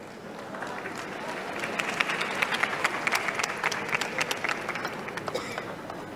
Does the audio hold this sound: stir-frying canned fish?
no